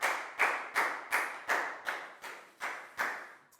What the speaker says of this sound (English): Big round of applause for Lakau